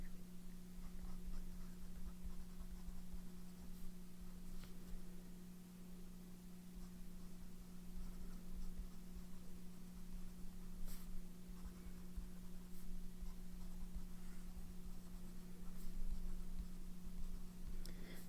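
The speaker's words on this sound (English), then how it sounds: "This pen just like glides across this paper." A pen moves across paper in faint, scratchy strokes beneath a steady low electrical hum, quiet and close, with no talking.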